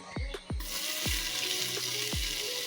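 Cloves, cinnamon and star anise hit hot oil in a cooker for egg biryani, giving a loud, continuous close-up sizzle with a few sharp dropping tones on top.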